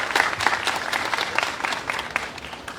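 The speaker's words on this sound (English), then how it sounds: "Let's give them a round of applause." Crowd applause welcoming a group of summer youth new hires at a city event in Mount Vernon, a dense sustained burst of clapping that carries clearly throughout.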